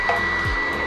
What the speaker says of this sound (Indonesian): Jadi dari kipas angin di sini akan masukkan ke dalam stove ini.